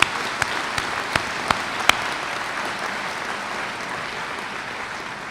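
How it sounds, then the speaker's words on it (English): A commencement audience applauds in a steady, distant wash of clapping, with a few sharper individual claps standing out early on. "And that deserves a round of applause."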